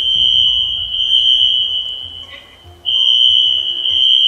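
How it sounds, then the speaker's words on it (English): A fire alarm sounds in a home during a Raft game session, a steady loud high-pitched electronic tone that drops out briefly near the middle, then resumes just as strong. "Is that the game? That's the fire alarm."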